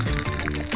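Water pours steadily from a bottle with a loosened cap, a short gurgling trickle heard close up and fairly loud.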